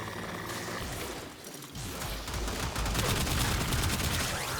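Rapid bursts of weapon fire from the Basmu in Warframe, a dense crackling stream that dips briefly and then returns louder, with mechanical clatter mixed in and no voices.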